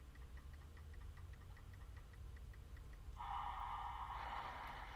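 The prize wheel spins in the SNES Wheel of Fortune game with a quiet, regular ticking over a low hum. A brighter tonal chime then comes in and holds to the end.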